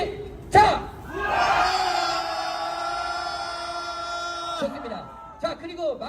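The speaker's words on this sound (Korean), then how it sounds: "자, 3초 동안 함성 시작!" A crowd at a political rally in Seoul lets out a roaring battle cry for a few seconds, a loud sustained mass shout that swells and then cuts off, with a voice on a loudspeaker before and after it.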